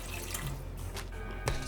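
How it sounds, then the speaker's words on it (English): Water poured into a pot of toasted vermicelli, a short, soft rush of running liquid heard close up. "So to my pot of vermicelli, I put in the water."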